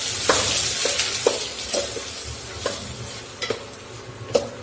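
Bitter gourd poriyal is stirred in a pan, the spoon scraping and tapping the metal in irregular strokes over a soft continuous sizzle, close and moderately quiet.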